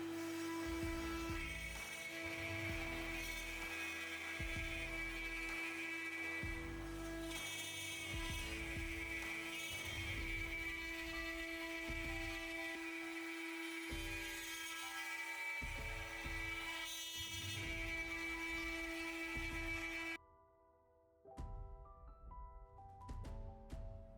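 A CNC machine cuts wooden crate pieces with a steady tonal whine over rumbling, shifting routing noise that runs continuously before cutting out near the end, leaving a quieter hum.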